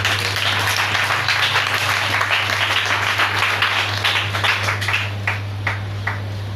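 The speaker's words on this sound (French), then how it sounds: "Acclamons le Seigneur." A church congregation claps in a loud, sustained round of applause over a steady low hum, thinning into a few distinct claps at the end.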